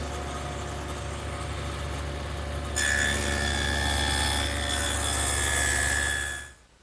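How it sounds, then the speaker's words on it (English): A table saw fitted with a dado head hums steadily, then cuts a rabbet into a plywood side panel, adding a louder, brighter grinding whine for several seconds before the sound stops. "With the dado head still in, I've just readjusted the fence to make this rabbet"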